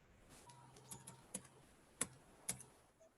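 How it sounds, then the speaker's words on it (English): Someone types a phone number on a computer keyboard, a handful of separate key clicks at an uneven pace, close and clear over quiet room noise. "I'm typing my number right now."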